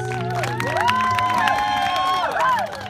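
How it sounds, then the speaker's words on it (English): A wedding reception crowd cheers and applauds the newlyweds, with whoops and rising, falling shouted tones over a dense, steady wash of clapping. "Applause for the newlyweds."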